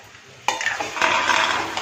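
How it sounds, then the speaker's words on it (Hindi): Cabbage stir-fried in a pan over raised heat, a sudden close sizzle that swells with scraping stirs and clinks of a utensil against the pan. "बस हमको एक मिनट तक और भूनना है।"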